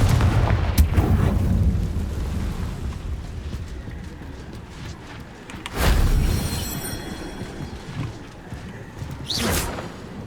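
Confringo fire spell blasts in the video game Hogwarts Legacy: deep booming explosions, a rumbling burst near the start, a louder blast around the middle and another near the end, with crackling debris in between.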